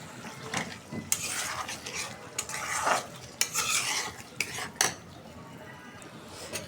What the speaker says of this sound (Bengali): ডাল আর আলু এটা এখন ভালোভাবে কষাই নেবো